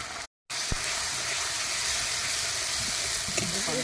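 Dried chilli, ginger and garlic frying in hot oil, a steady close sizzle that fills the whole clip apart from a brief cutout near the start, with a few faint stirring clinks.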